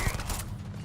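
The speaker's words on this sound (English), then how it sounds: "Fuck, it's still shooting at me." Rapid gunfire aimed at the player in Starfield on PS5: a short, dense volley of crackling shots in the first half, then a rumbling tail, mixed with faint background voice.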